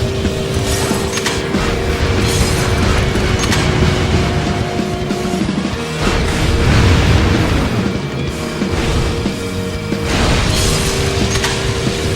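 Weapon fire and explosions strike a combat racing car in the Jak X video game, with loud booms and bursts over a constant roaring engine drone and no pause throughout.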